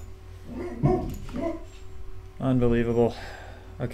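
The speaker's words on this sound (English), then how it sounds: "Sorry about the barking." A dog barks and whines in the background of a home gaming session, with someone talking over it in the foreground.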